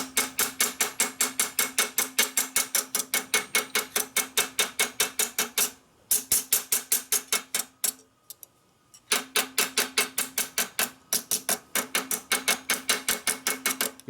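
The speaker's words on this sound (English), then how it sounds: "You fine tune it with your small hammer." Steady, rhythmic metallic tapping of a small hammer on the metal of a 1942 Harley-Davidson WLA springer fork, quick evenly spaced ringing strikes with two brief pauses.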